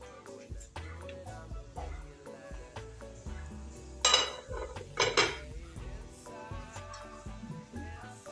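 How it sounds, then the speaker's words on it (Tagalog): Rice being washed in a pot, with soft scraping and light metallic clinks and knocks of the pot, two louder splashing bursts in the middle, and faint kitchen noise between. "Hugasan mo na yung bigas."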